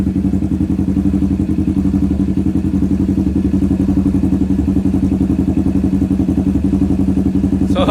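A Kawasaki Z650 motorcycle's exhaust, a close, loud, steady idle with a deep, even throbbing pulse throughout, heard alone.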